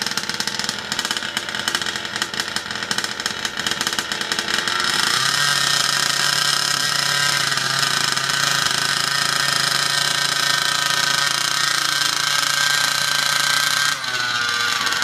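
A fifth-scale gas RC engine being broken in, buzzing loud and continuous throughout, its pitch climbing and holding steadier partway through as the throttle is opened to about a quarter, with a brief dip near the end.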